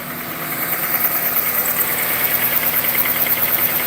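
An idling Honda car engine hums steadily close by, with a constant high-pitched whine from a noisy alternator and a fine rattling pulse running through it.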